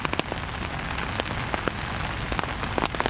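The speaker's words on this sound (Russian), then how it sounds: "Вот, сейчас дожди пошли, и все." Rain falls steadily outdoors in autumn, a constant dense hiss broken by scattered crisp drops hitting nearby surfaces, moderately loud and free of speech.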